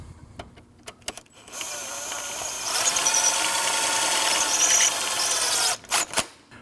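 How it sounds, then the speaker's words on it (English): Power tool whirring steadily while tightening the belt tension bolt on a 2003-2008 Subaru Forester 2.5L during an alternator and power steering belt replacement, a sustained loud run of about four seconds after a few clicks, no talking. "Tighten your tension bolt."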